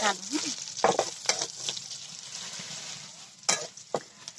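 Food, likely eggs, cooks in a pot over a firewood-fed clay stove. There is a moderate sizzle with several sharp clanks and scrapes of utensils scattered across the few seconds, and no one speaks.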